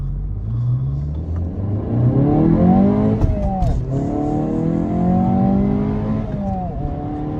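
A Honda Civic Si engine revs hard while flat shifting above 4,300 RPM, rising rumbling pulls with quick shift breaks heard from inside the car, and a voice speaks briefly over it.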